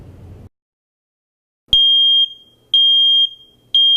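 A smoke alarm sounds loud, piercing beeps in a regular pattern, three long shrill tones roughly a second apart after a short quiet gap.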